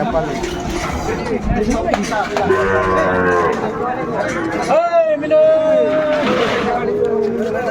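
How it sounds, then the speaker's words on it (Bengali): A Sahiwal bull lows loudly and close at a busy cattle market in Chuadanga, with long drawn moos rising over a background of crowd chatter and people talking. "এই যে মাস্টার অসাধারণ একটি গরু"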